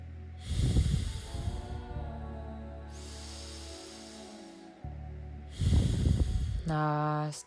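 Slow, deep yoga breaths during a full-body flow, long hissing inhales and exhales close to the microphone, each drawn out over a couple of seconds, with no talk over them.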